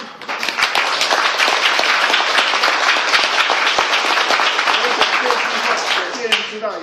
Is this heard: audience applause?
yes